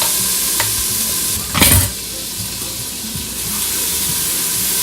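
Macadamia nuts and other ingredients hit a hot pan and sizzle steadily, with a brief louder burst of frying and stirring near the start, then a constant close hiss.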